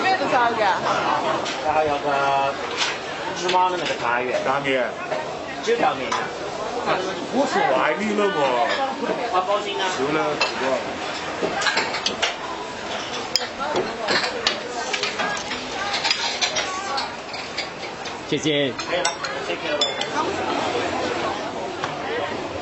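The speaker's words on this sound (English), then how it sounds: "There's another noodle shop that's absolutely bustling" A busy noodle shop in Kunming serving rice noodles, filled with constant dense crowd chatter and overlapping voices from start to finish, with faint clinks of dishes scattered through the steady hubbub.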